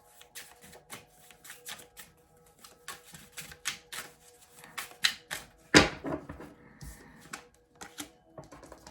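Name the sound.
tarot cards being shuffled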